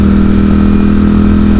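A Ducati Streetfighter V4 motorcycle engine, apparently loud, holds a steady, powerful drone close to the microphone with no clear rise in pitch, heard alone without talk.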